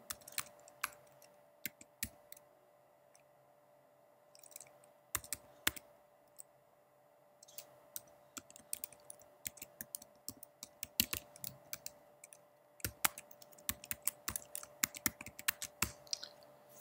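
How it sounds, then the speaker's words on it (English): Login details being typed on a computer keyboard: sparse, quiet key taps at first, then denser bursts of clicks toward the end over a faint steady hum. "So just type Century Login."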